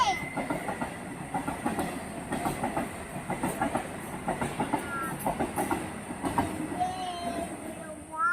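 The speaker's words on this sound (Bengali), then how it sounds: "এটা হচ্ছে ট্রেন, ট্রেন যাচ্ছে।" A train rolls past close by, its wheels beating a steady clickety-clack over a continuous rumbling roar that lasts the whole stretch.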